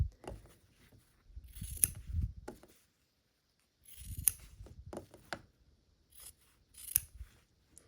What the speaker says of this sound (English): I can just trim that excess away now.